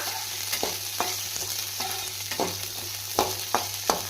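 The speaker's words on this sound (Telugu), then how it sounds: "ఇది దోరగా ఫ్రై చేసుకోవాలా" Peanuts and green chillies fry in oil for a hotel-style peanut chutney, a constant sizzle with regular scraping stirs of a ladle against the pan, close and even, no voices over it.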